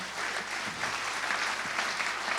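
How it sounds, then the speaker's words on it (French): An audience claps continuously, a dense even wash of many hands at moderate distance with no voices. "Applaudissements pour vous."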